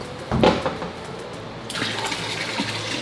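Water running and splashing as tubs are filled with RO water at a reef aquarium water station, a steady fill noise with a brief louder gush near the start, fairly close.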